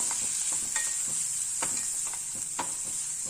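Sambar powder being stirred in a pan over a low flame while making capsicum rice, with a steady soft sizzle and a few light spoon scrapes scattered through, close up and without speech.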